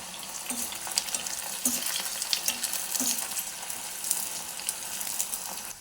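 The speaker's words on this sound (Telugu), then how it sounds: "ఆనియన్ ఇట్లా ఫ్రై అవుతుంది కదండి" Cut onions frying in hot oil for biryani, a dense, steady crackling sizzle with frequent spoon-stirring scrapes and clinks, close and continuous without talk.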